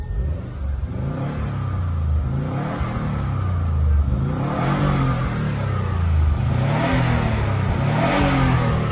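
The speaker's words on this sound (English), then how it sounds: "I like the rumble of the motors." A 1994 Subaru WRX GC8 engine revs repeatedly in loud, close rising and falling surges, its rumbling note swelling several times over roughly nine seconds with no talking.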